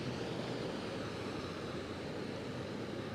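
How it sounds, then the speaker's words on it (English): An Asheville fire rescue truck pushes through deep floodwater on a road during Hurricane Helene, giving a steady, faint rush of churning water and engine noise with no voices. "You can just hear how hard that fire truck just had to drive through that road just to get through it."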